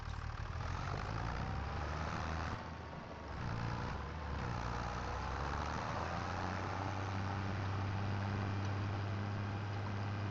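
John Deere tractor engine in Farming Simulator 25, idling with a steady low diesel drone and rumble, a brief dip in loudness midway before the engine settles into a heavier, sustained hum.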